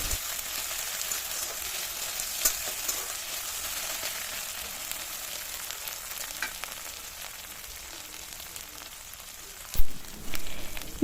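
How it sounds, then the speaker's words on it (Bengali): Ginger, cumin and coriander paste frying in oil over a medium-low gas flame, a steady, even hiss of sizzling with a few faint stirs and a single sharp knock near the end, no talking. "আমরা গ্যাসের ফ্লেমটা মিডিয়াম টু লোতে রেখে ভালো করে মশলাটা কষতে থাকবো"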